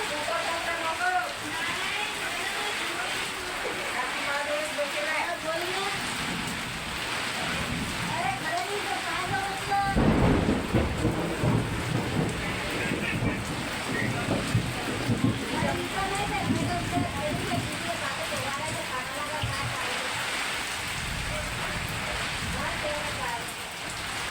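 Heavy evening rain falling steadily outdoors, a constant close hiss and patter on surfaces throughout, while people talk over it; no distinct thunder stands out.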